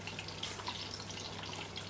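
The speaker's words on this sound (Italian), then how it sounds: "e ci versiamo il barberino" Barbera wine poured from a large bottle into a glass in a Sardinian home kitchen, a faint, short gurgling trickle with light splashes, close and quiet with no one speaking.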